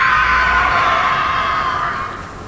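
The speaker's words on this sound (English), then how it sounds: "you hear the distant shriek" A distant shriek plays as a sound effect in a tabletop role-play scene, a sustained high, piercing cry held for about two seconds that slowly fades away.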